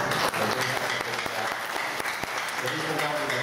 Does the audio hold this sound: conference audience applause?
yes